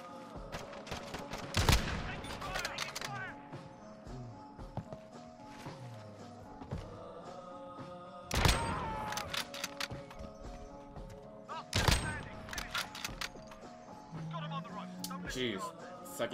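Shots in Call of Duty Modern Warfare ring out as a few sharp, loud cracks spaced several seconds apart, with quieter game clatter and footsteps between them and people talking over them.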